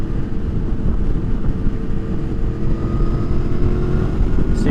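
A 2023 Yamaha MT-10 with a Leo Vince slip-on exhaust holds high RPM while riding, a dense, steady engine drone mixed with heavy wind rumble, loud and unbroken.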